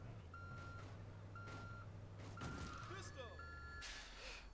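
Repeated electronic reversing beeps from a car backing up in the GTA 2 video game, evenly spaced tones over faint engine hum, with brief in-game clatter and blips near the end.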